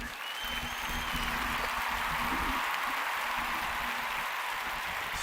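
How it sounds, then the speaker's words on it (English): A steady round of applause from a group gathered with friends, a dense, continuous wash of clapping that holds at an even loudness for several seconds with a faint murmur of voices underneath. "Can we get that round of applause for the homie?"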